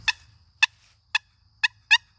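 Sharp clucks from a long wooden box turkey call, jerked quickly with the paddle nearly closed; five crisp, evenly spaced clucks, loud and close, with no voices.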